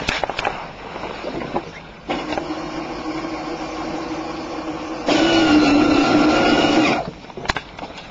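A restored Santa Fe model locomotive's electric motor runs with no load, giving a steady mechanical whir that steps up in pitch and loudness partway through before stopping, with brief clicks at start and end.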